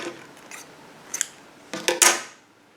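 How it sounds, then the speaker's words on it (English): Scissors snip crochet yarn close by: a few light metallic clicks and slides, then a quick cluster of sharper cuts near the end, quiet and alone. "I'm going to cut my previous color,"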